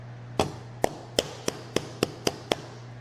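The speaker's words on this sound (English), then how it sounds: "You don't want to hammer it too much like that one" Meat is pounded with a mallet for tenderizing in a kitchen: eight sharp, evenly spaced thumps land close and loud over a low background hum, with no talking.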